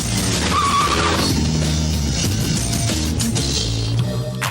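A motorbike skids with tire squeal and roars off in a Hindi-dubbed action film scene, loud and close with dense engine noise throughout.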